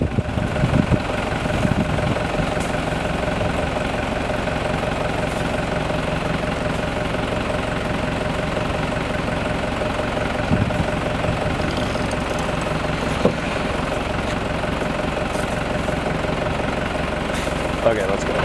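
Car engine idling and rumbling steadily while driving slowly through Yala National Park in Sri Lanka, a continuous low drone with occasional knocks; people talk faintly at times.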